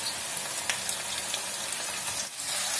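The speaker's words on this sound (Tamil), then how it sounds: "ஃப்ரை ஆகட்டும்." Bitter gourd chops fry in hot oil with a steady, close sizzle and occasional pops and crackles, continuous and fairly loud throughout.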